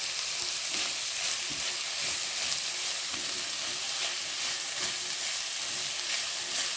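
Upma tempering frying in a pan, a dense continuous sizzle with the rhythmic scrape of stirring running through it, close and steady with no talking.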